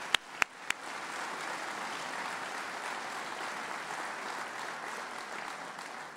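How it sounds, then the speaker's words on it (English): Banquet audience applauding gold sponsors at a mayor's State of the City address, opening with a few sharp knocks and then settling into steady, even clapping from a large room. "Your applause for all of our gold sponsors"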